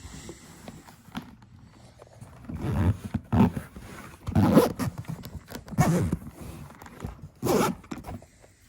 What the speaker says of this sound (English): Zip is a little bit tougher, but it does have like a waterproofing